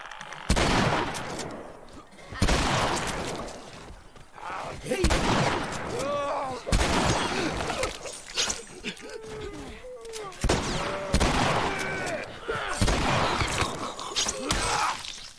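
Shotgun fire in The Last of Us, with loud sharp blasts scattered through continuous in-game combat noise and music, someone talking over it.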